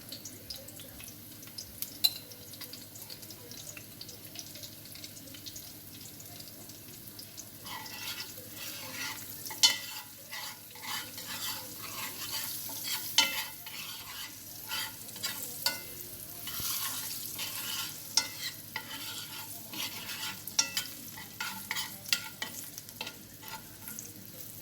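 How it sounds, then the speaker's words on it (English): Curry and garlic fry in a pot for Jamaican-style curry goat: a soft, steady sizzle with intermittent scraping and clinking as the mixture is stirred, fairly quiet and close. "I'm going to let my curry burn with the"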